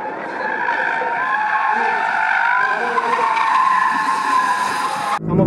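A race car brakes hard and skids with sustained tyre squeal and engine roar in a racing video game, loud and continuous for several seconds before cutting off abruptly.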